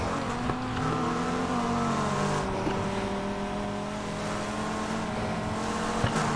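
A Golf GTI engine in Need for Speed Heat holds a steady high-pitched racing drone with shifting tones throughout, loud and continuous, with no talk over it.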